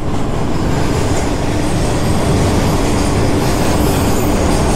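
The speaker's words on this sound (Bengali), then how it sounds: "এখানে ট্রেন পাঠিয়ে দিয়েছে আমার জন্য, কিন্তু মালগাড়ি।" A freight train rolls past very close and loud, a dense, continuous roar of wheels and wagons on the rails with no break and no voices, heard from beside the track during a bike tour from Kolkata to Siliguri.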